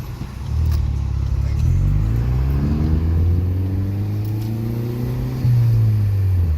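A Ford Focus with a straight-piped exhaust revs loudly up close, its engine note rising and falling through a few pulls with a rough, raspy edge.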